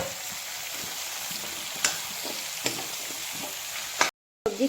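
Chicken and cut pumpkin fry in a pan while being stirred. A steady, close sizzle runs throughout, marked by a few sharp stirring clicks, and it cuts out briefly near the end.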